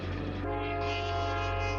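A train sound effect during a story reading, a continuous loud train horn blaring with a steady low rumble beneath, heard alone without speech.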